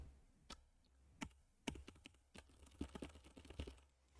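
Keys clacking on a computer keyboard during embedded UART programming work, with irregular bursts of taps that are fairly faint and quicken toward the end, with no voices.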